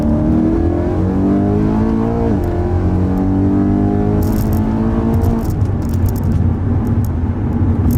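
A BMW E92 M3 revving while being driven, the engine note climbing and falling through steady pulls, loud and close inside the cabin, with rattles and brief ticking sounds on top.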